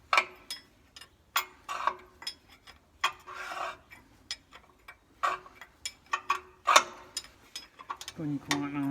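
A 45mm thread tap turned with a tap wrench on a Foden Fleetmaster truck makes a series of sharp, irregular ticks and metallic clicks up close, and a voice comes in near the end.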